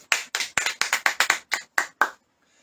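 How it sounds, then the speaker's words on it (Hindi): About ten sharp hand claps from a church congregation, spaced in a quick, slightly uneven rhythm over two seconds, close and fairly loud, then silence. "सब जन ताली बजाएंगे।"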